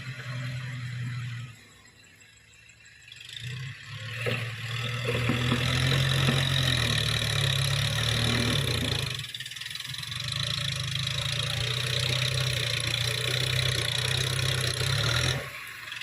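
Kubota M7040 tractor engine pushing laterite soil, a dull diesel drone that drops briefly then rises to a loud, strained steady roar under load, close by.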